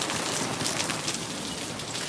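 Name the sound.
heavy rain falling in Tokyo street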